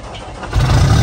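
A Great Dane van's engine cranks and catches about halfway through, then settles into a steady, close, low rumble.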